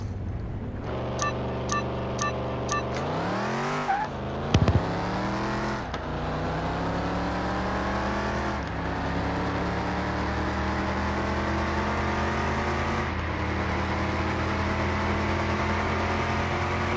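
A car engine revs up to the rev limiter, rising in pitch, bouncing off the limiter, then settling into a sustained high-revving drone, loud and close.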